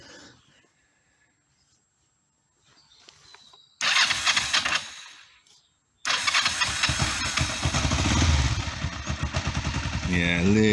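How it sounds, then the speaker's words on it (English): A motorbike engine starting from slightly cold with the choke on: a first brief cranking burst cuts out, then it catches and runs loud and close, revs building steadily as it settles into a fast choke idle. "And then you can hear the revs picking up with the choke."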